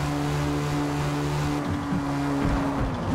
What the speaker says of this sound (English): driving this Porsche here, there's some really weird sound with the engine